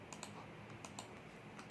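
Fingers tapping on a computer keyboard, a few quick soft clicks in short bursts against a faint, quiet background.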